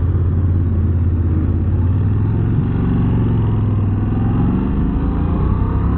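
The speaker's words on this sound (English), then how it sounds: "You can see here how I can tightly turn the bike." A Moto Guzzi V85TT motorcycle engine idles and burbles at low revs through a tight, slow turn, a steady close mid-range drone with a slight swell in pitch, with no talking.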